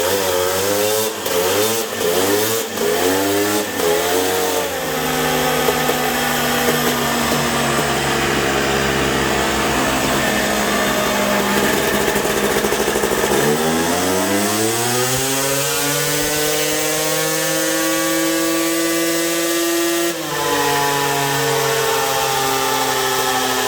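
Two-stroke 250cc dirt bike engine on a dyno making a 5th gear pull, loud and close, blipping a few times before a sustained high-revving scream that dips and then climbs steadily to the top.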